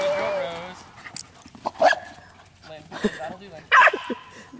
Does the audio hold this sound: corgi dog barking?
yes